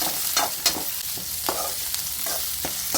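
Chopped onion and curry leaves fry in a pan for a North Karnataka vegetable stir-fry, giving a steady close sizzle broken by sharp scraping stirs of a spatula at irregular intervals, with no voice.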